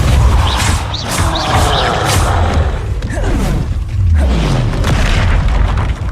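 A Depulso spell strikes in Hogwarts Legacy, giving heavy booming impacts and crashing thuds. They come loud and close in a dense burst of game combat, with low rumbles trailing after each hit.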